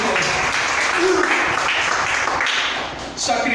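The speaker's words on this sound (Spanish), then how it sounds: "Denle un aplauso al Señor." A church congregation claps and cheers together, a thick sustained roar of hands and raised voices that holds steady and dips briefly near the end.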